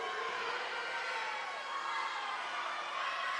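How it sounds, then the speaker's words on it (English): A crowd cheers and shouts at an indoor high school swim meet as a swimmer nears the finish of the girls' 500-yard race, a steady roaring wash of voices echoing through the pool hall. "the crowd's going wild as Rhea Wennis heads for home"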